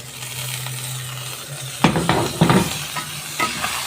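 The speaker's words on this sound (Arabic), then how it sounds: "هقلب الرز مع السمنة مع الزيت مع الشعرية" Rice and browned vermicelli being stirred in a pot with ghee and oil: a quiet background hum, then a few scraping, clinking stirs and soft sizzling bursts close by, no talk.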